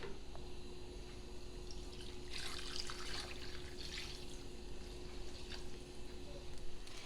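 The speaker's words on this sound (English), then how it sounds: "And I will add more water to this to at least cover that." A faint, steady splash of water running into a soup pot of turkey pieces comes in two bursts over a low constant hum.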